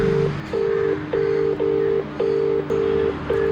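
A phone dialing out, giving a series of about seven short, steady electronic tones in an even, brisk rhythm, clear and close, with no speech.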